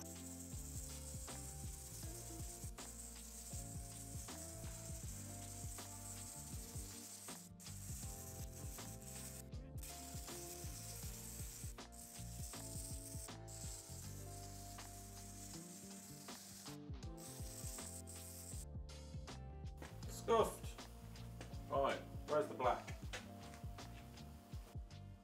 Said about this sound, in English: I'm just gonna go over it with a sanding wheel on a drill, just so it scuffs up the surface a bit